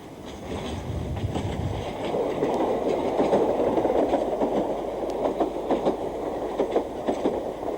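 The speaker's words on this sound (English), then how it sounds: "At Epping, London trains use one platform and Ongar trains depart from the other." A London Underground train runs on the Epping–Ongar branch in 1981, a steady rumble of wheels on rail with faint rhythmic clacks over the joints, continuous and fairly close.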